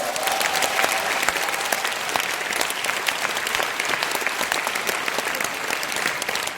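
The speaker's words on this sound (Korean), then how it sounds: "박수 한번 치세요." An audience at a business seminar in a hall gives a sustained round of applause, dense steady clapping from many people filling the whole stretch with no talk over it.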